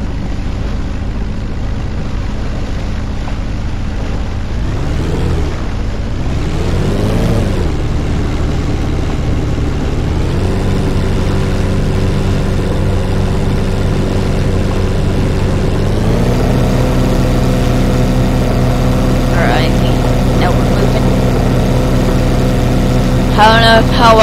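A ship's engine in the video game Ship Simulator Extremes rumbles steadily with a low droning hum, rising in pitch as the throttle is opened, loud and continuous beneath someone talking.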